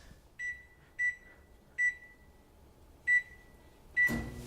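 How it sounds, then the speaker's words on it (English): A microwave oven's quiet hum runs underneath as a series of short electronic beeps sound at uneven intervals, ending with a brief clunk. "you put it in the microwave for 15 minutes"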